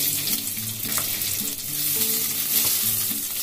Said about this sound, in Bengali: পেঁয়াজটা দিয়ে খুব ভালো করে ভেজে নিচ্ছি।